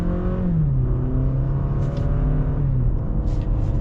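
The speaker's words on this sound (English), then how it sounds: "So let's get our acceleration here with the all-wheel drive Camry." A 2021 Toyota Camry with all-wheel drive accelerates hard in sport and manual mode, a steady engine drone from inside the cabin rising in pitch, dipping through a smooth gearshift, then climbing again.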